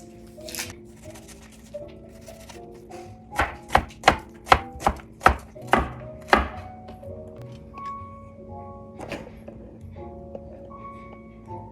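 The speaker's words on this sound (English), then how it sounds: "And now we're gonna start cutting up some vegetables." Chopping vegetables on a board for cabbage soup with garden peppers: a quick run of about ten crisp, evenly spaced knife strikes, then a few scattered cuts, close and clear with no talking.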